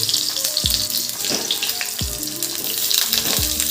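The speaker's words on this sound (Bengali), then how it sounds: "সমস্ত পটলগুলোকে একটু ভেজে নেবো" Loud, continuous sizzling of pointed gourds frying in hot mustard oil in a wok, with a few deep thuds or stirs at irregular intervals.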